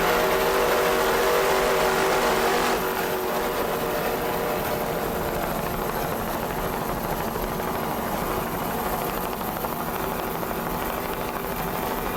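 Offshore racing powerboat engines in the Ramada Offshore team at the 1993 Suncoast Offshore Grand Prix in Sarasota, Florida, a loud continuous high-revving roar that dips slightly after a few seconds and carries on steadily.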